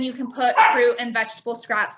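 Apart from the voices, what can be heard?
dog barking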